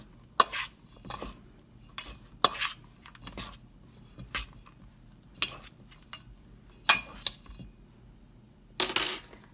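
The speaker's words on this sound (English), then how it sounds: "really I'm tossing it more than I'm actually stirring it" Mixture tossed and stirred in a bowl until it starts to stick together, giving a dozen or so sharp scraping clinks and knocks at an irregular pace against near silence.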